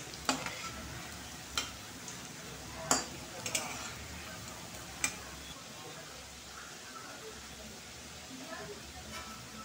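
Dhoka lentil cakes fry in oil with a steady, soft sizzle, broken by sharp clinks and taps of a utensil against the pan; a voice talks over the frying.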